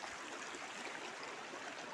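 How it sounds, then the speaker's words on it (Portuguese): A river running full and fast after heavy rain at Riacho das Cruz, a steady broadband rush of flowing water, close and constant throughout with no pauses. "Tem chovido bastante aqui na nossa região, tem muita água aqui no rio"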